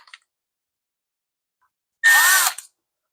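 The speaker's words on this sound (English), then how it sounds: "We're going to screw the carburetor back on." A brief, close power-drill whir drives in a screw holding the carburetor on a Homelite weed eater, a single half-second burst rising in pitch before stopping, with faint clicks beforehand.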